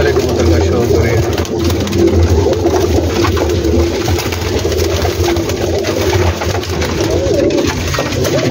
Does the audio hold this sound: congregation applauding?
no